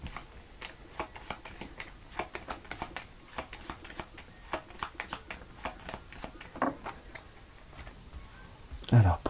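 Tarot cards are shuffled by hand in quick, rhythmic riffles and soft slaps that repeat for several seconds, close and clear, ending with a brief handling noise.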